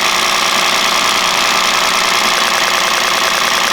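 An Audi S4 engine runs steadily after a coil pack repair, a continuous close, loud mechanical hum with a busy, slightly rattly texture and no voices over it.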